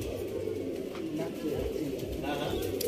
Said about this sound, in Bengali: দেখুন আরেকটা পায়রা, নর পায়রা।